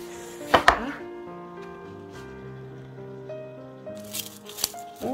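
Dried basil leaves crackle and crumble between fingers in short rustling bursts, close up, over a faint steady hum.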